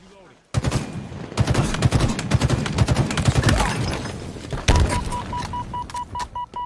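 Dense bursts of rapid gunfire in an online shooter video game, loud and close, with a brief pause and then more shots over a repeating electronic beep, and a voice talking beneath.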